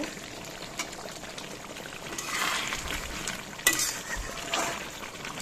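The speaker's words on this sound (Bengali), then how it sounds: "এদিকে মটনটাও বসিয়ে দিয়েছি কষানো চলছে" Mutton is sautéed and stirred in a pan in a village home kitchen, a quiet low sizzle with occasional soft scrapes and a sharper clink of the spatula against the pan.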